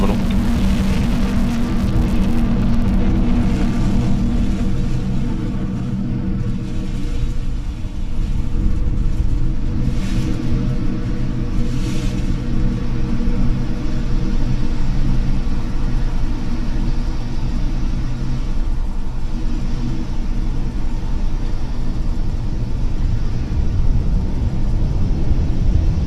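A SpaceX Falcon 9 rocket's first-stage engines roar during ascent, carrying Spain's Paz satellite: a loud, steady, heavy rumble lasting throughout, dense and distant-sounding with no breaks.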